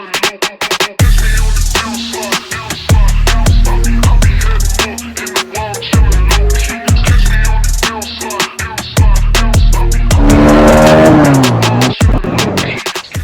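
A Hero Xtreme 250R motorcycle and a Mercedes E-Class drag racing on a track, loud and close, with engines revving hard and rising through repeated gear changes in bursts, then a final whining acceleration.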